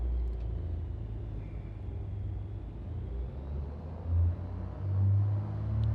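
Light aircraft engine run-up before an obstacle departure from Aspen: a steady low engine drone and rumble holding at a fairly constant level for several seconds, with slight swells in power, no talk.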